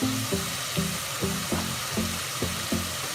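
Okra frying with green chilies in a pan for achari bhindi, a constant sizzle broken by regular rhythmic scraping strokes of a spatula, close and clear with no talk.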